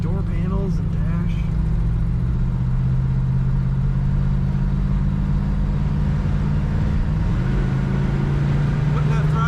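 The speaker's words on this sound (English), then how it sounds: "Putting that throttle down, the kick down does work on the transmission, and you can feel the power." A 1967 Pontiac Firebird convertible engine pulls steadily under throttle, a loud, continuous low drone that shifts pitch near the end as the transmission kicks down, heard from inside the car.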